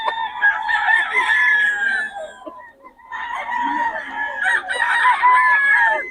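Roosters crow in two long, loud, strained calls separated by a brief pause, close by, with some clucking from other fowl around them.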